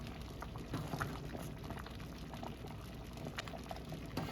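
Korean red bean porridge (patjuk) simmers in a pot with a soft, steady bubbling, faint and continuous, with scattered small pops and no voices.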